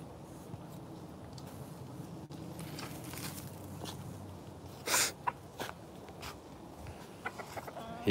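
A one-eyed chicken clucks outdoors near a train track, a few short, close clucks and scratchy steps coming mostly in the second half over faint ambient noise.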